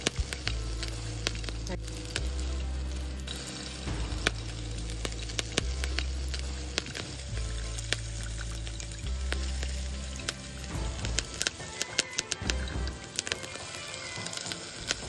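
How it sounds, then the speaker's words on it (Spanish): Very hot oil poured repeatedly over pork belly skin set on a rack over a container, producing loud crackling sizzles in waves with sharp pops and a low recurring rumble, close and continuous without talk. "Lo bañaremos con este aceite bien caliente por la parte de arriba hasta que nos quede completamente así, toda la piel bien achicharrada."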